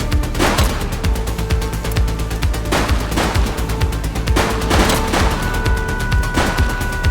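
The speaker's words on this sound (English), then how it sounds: "Hold your fire! You're not authorized to shoot." Rapid gunfire in The Precinct police video game, with repeated sharp bursts and single shots cracking in irregular clusters over a continuous busy game soundscape, loud and close.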